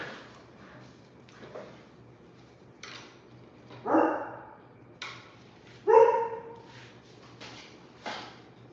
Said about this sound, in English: Goddamn dog barking.